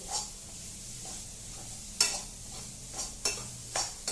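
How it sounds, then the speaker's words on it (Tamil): Egg fried rice stirred in a hot pan, with steady sizzling broken by several sharp scrapes of a utensil against the pan bottom, close and fairly quiet, with no voices. "ஸோ அடியெல்லாம் நல்லா தேய்ச்சி விட்டுட்டு ஒரு தம் போட போகிறோம்."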